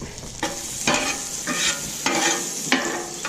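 Garlic sizzling loudly in olive oil and butter on a Camp Chef flat top griddle, a close, bright frying hiss broken by several rhythmic scraping strokes of a spatula.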